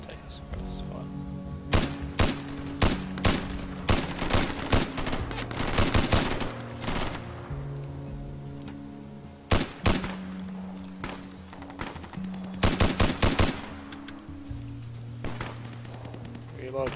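Gunfire in the video game Insurgency, scattered single shots and quick bursts, some near and sharp, others more distant, over a low steady game hum and occasional voice.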